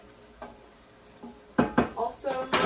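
Big shrimp sizzle in a pan with butter and garlic beside a pot of boiling pasta water; soft frying hiss under a few sharp clatters of a utensil against the pan, with a voice briefly audible.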